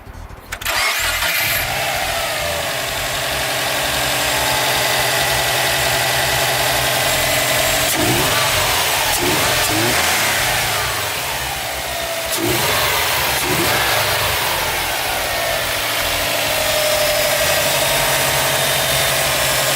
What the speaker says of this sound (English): we're going to check out how the air intake sounds now before I actually drive on the road